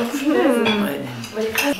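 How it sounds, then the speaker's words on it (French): Cutlery and dishes clink and clatter at a shared meal on a hike in Mafate, Réunion, with quick close metallic taps and scrapes while voices talk faintly underneath. "On ramène d'autres couverts."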